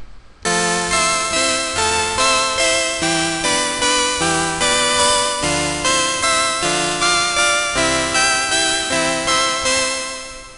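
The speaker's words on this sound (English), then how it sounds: "I'm going to show you guys how to make this original pad sound." A strong saw pad synth patch built in the Massive synthesizer plays sustained, bright chords that change in a regular rhythm, loud and alone with no voices.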